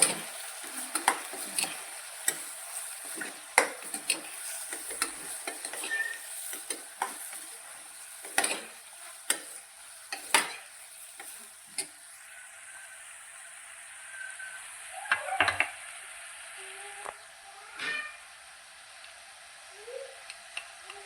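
Red chilli and turmeric powder are stirred into green pigeon peas and val beans frying in oil for a Kathiyawadi curry. A soft, continuous sizzle runs under scattered, irregular spoon scrapes and taps against the pan, with no talking.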